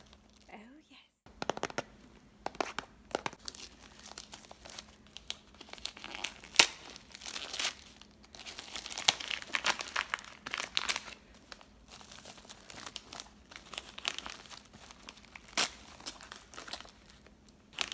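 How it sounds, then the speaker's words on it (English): Protective packing paper in a box crinkles and rustles loudly and close up in irregular bursts, with faint whispered speech now and then. "We always make sure to put lots of paper to protect the box."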